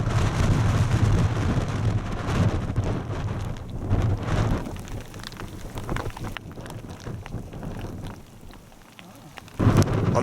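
Strong wind roars across a Lake District hilltop near Kirkstone Pass, buffeting the microphone in a loud, continuous rumble with gusting surges and no voices.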